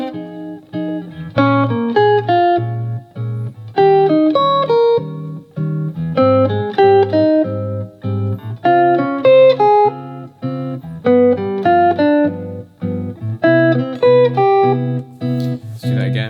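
A single guitar-like instrument plays arpeggios with the chord tones taken out of order, in repeated phrases of plucked notes with short pauses between groups, clear and close with no talking.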